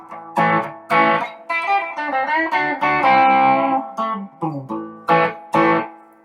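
Electric guitar run through a vintage tube overdrive pedal with the gain cranked up into a Fender Deluxe Reverb amp, a series of crunchy distorted chords and sustained notes, with strummed stabs and short pauses between them.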